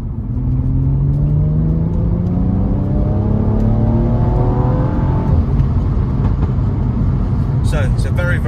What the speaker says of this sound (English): this car has a automatic gearbox and a 3-litre petrol engine, and it's got pops and bangs as well